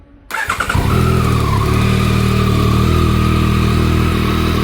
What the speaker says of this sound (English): that's the sound of the stock exhaust.